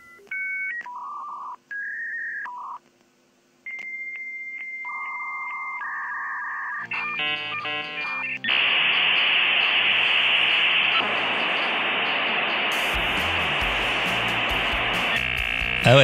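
A dial-up modem connects to the Internet: a run of DTMF dialing tones and beeps, then the loud, harsh screeching and hissing handshake that fills the rest of the clip.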